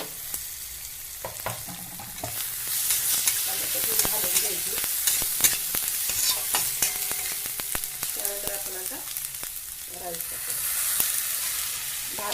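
Tomato goes into a pan of frying potato, onion, peanuts and chilli for leftover-rice phodni bhaat, a loud continuous sizzle with repeated spoon scrapes and clatters close by.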